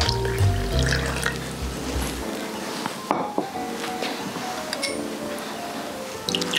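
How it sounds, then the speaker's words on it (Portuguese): Water poured into a well of flour while making Christmas dough, with a trickling, dripping sound up close alongside a few light clinks of utensils, then softer handling noises. "Insiro também a água."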